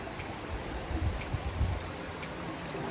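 Cold overflow water in the Andorra mountains near Col d'Ordino running down toward a waterfall, a steady close rushing and gurgling flow with a few louder splashes, no voices.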